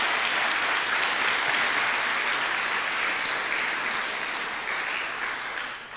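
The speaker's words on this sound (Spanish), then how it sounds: "Dale un fuerte aplauso al Señor" Sustained, loud applause fills a church congregation's service, dense steady clapping from many hands holding for several seconds and easing off only slightly at the close.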